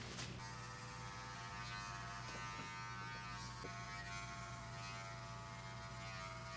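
Wahl hair clippers fitted with a one guard buzz continuously and steadily, close up at low level, as they fade hair upward on a head.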